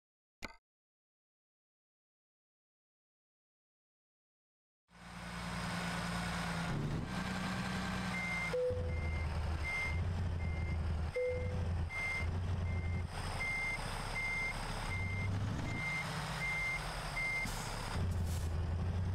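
A truck in the American Truck Simulator video game backs up with its reversing alarm beeping at a steady, evenly spaced rhythm over a loud, constant idling diesel rumble, preceded by several seconds of silence.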